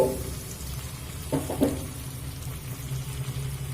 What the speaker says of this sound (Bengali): এখানে আমি যে ক্যাপসিকাম ভেজে রেখেছি ক্যাপসিকামটা দিয়ে দেব